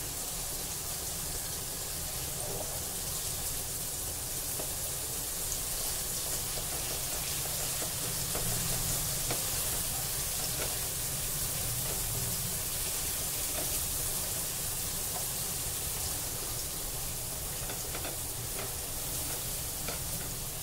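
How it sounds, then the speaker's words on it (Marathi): Seer fish (surmai) fries in a pan with a continuous, crackling sizzle, a dense spattering hiss at moderate volume that never lets up, with no one speaking. "एकीकडे मच्छी आपली फ्राय होत आहे आणि दुसरीकडे आपण ही पेस्ट तव्यावर परतून घेत आहोत"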